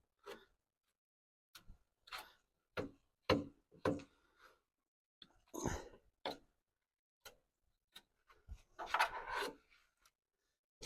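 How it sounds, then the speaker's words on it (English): Sanding by hand along a body line on a car bonnet at home: irregular short rasping strokes in separate bursts, close and moderately loud, with quiet gaps between them and a longer scrubbing run near the end. "I would like to cover this body line so I can sand it down"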